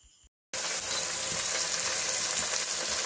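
Chicken pieces frying in cooked masala in a pan, a loud, steady sizzle that starts abruptly after a short pause and continues unbroken, with no voices.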